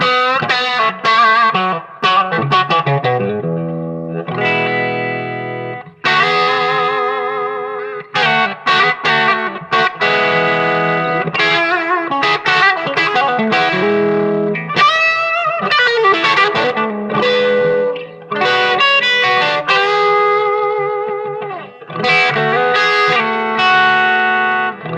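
Vintage Magnatone M9 amp played at full volume on the normal setting with the treble pickup, electric guitar chords and lead phrases ringing out continuously, bright and loud.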